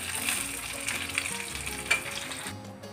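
Cumin, mustard seeds, dried and green chillies and curry leaves fry in hot oil for a tempering, crackling and sizzling close up with small pops and light stirring, then cutting off abruptly.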